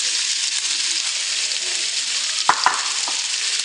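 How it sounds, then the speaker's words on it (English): Garlic, prosciutto and mushrooms sauté in a hot pan for chicken marsala, giving a steady close sizzle with a few sharp stirring clicks near the end and no voices. "So we're going to add our garlic now, the prosciutto, and the mushrooms."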